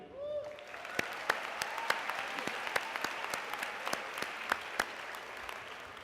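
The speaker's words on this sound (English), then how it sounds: "give the faculty and the staff, which are present today, a big hand of applause" A convocation audience gives a big hand for the faculty and staff: dense, sustained clapping from a large crowd, with individual sharp claps standing out throughout.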